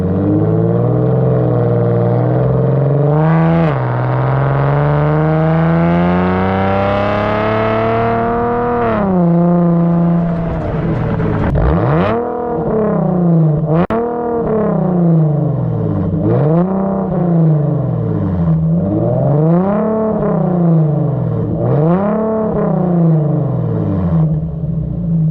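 An Infiniti G37x fitted with Vibrant resonators on its exhaust revs loudly and steadily, its engine note climbing and falling in a long sweep and then in a series of repeated rises and drops, with no talking.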